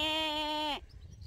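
A freshly sheared sheep in a field gives a single loud, close bleat with a clear wavering tone that ends abruptly, followed by quiet outdoor background.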